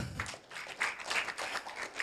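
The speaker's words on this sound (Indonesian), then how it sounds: "Tepuk tangan dong buat Tuhan." A church audience gives brief applause during a sermon, a light and fairly distant patter of many hands clapping for about two seconds.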